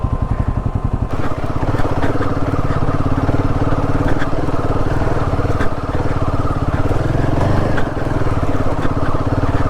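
A Royal Enfield Himalayan 450 motorcycle engine drones loud and close while riding a rough off-road track to a mountain peak, its throbbing exhaust holding steady throughout with brief dips as the throttle shifts.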